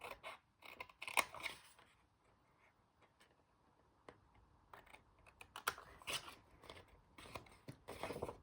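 Scissors snip through single-sided paper at a crafting table, a series of faint, quick cutting clicks in short bursts with quiet gaps between them, and no talking.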